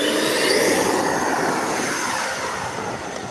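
A Freewing de Havilland Venom RC jet with a high-performance motor takes off, its loud, steady whooshing roar close by and easing slightly as it pulls away.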